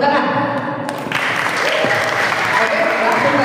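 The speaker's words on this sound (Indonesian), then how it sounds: "oke, tepuk tangan" An audience at a student association election debate at an Islamic Qur'an boarding school breaks into hearty applause just after a voice speaks briefly, the clapping continuing loudly to the end.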